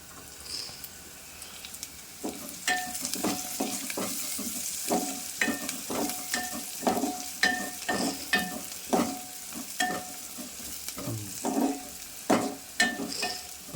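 Onions browning in oil in a pan for a fenugreek leaf, tomato and moong dal curry, steady sizzle broken by repeated scraping clinks of a spoon stirring, close and irregular in rhythm.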